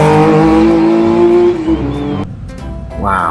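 A toy sports car gives out a loud, continuous electronic engine-revving sound that rises in pitch, ending with a brief screech-like sweep.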